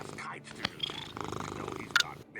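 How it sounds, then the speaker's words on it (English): A cat purrs close to the microphone with a soft, low rumble, mixed with faint scratching and small rustles. A voice talks quietly over it. "Now I hear the kitty. That is a cat."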